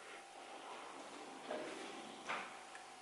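A kitchen drawer is opened in a small Italian kitchen: a quiet sliding scrape with two soft bumps against a steady background hiss, and no talking.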